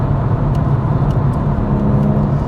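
A BMW M140i driving hard on the Nürburgring, its engine a loud, steady low roar heard close from the car, with road and wind rush and no talk.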